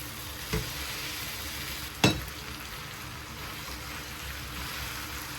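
Peppers and onion sizzle steadily in a pan for pork chops, a constant frying hiss broken by two brief clinks of a utensil against the pan.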